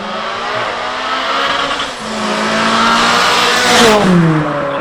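A tuned 800 hp VW Golf 5 GTI engine accelerates hard and loud and close, its revs climbing in a rising roar, dipping briefly, then surging again with a brief squeal near the end.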